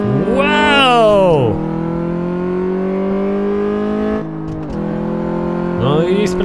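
A tuned car in Car Mechanic Simulator 2014 revving hard and accelerating through the gears, a loud close engine whine climbing in pitch with sharp shifts, then a steady high drone before another rising rev near the end.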